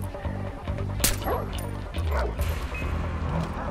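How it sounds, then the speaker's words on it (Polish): A dog in the video game Far Cry 4 barks and yips repeatedly, with whimpering mixed in, fairly close and loud over busy game ambience. "Tutaj jak widzicie jest pies."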